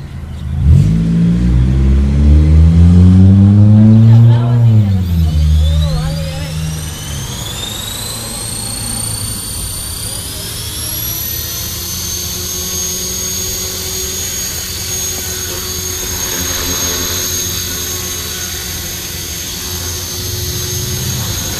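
A ready-to-fly 450-size RC helicopter spools up loudly, its rotor pitch rising and then settling into a sustained high-pitched whine as it hovers nearby, with no voices.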